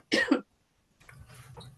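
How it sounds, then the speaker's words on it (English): One sharp cough up close, a short pause of quiet, then soft low murmuring follows. "I'm sorry, I'm coughing."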